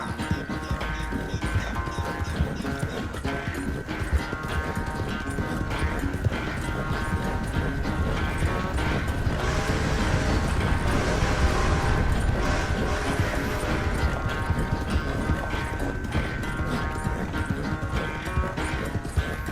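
A horse gallops in the video game Red Dead Redemption 2: continuous rapid hoofbeats under a loud, dense mix of game sound that swells in the middle and carries on without a break.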